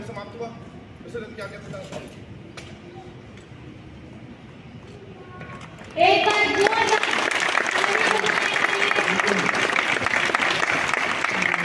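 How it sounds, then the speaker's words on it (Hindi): A voice talks over quiet background noise, then loud, dense applause suddenly bursts in halfway through and continues steadily to the end as a crowd claps in encouragement. "हौसला अफजाई के लिए तालियों की गड़गड़ाहट"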